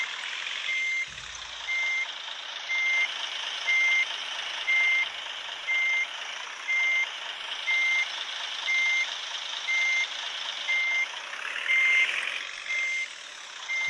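A bus in a mobile bus-driving simulator game backs up with a steady, evenly spaced reversing beeper repeating over a constant engine drone, loud and close throughout.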